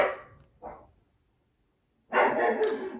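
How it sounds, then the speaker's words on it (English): Several dogs bark in short bursts near a home: two quick barks at the start, a silent gap, then a louder, longer cluster of overlapping barks. "I swear these dogs bark in every single video I make."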